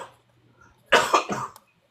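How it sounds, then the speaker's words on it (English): A single cough bursts out at close range, sharp and loud with two or three quick follow-on pulses, amid people chatting during a reptile hobby round-table discussion. "It had to be your turn right when you coughed."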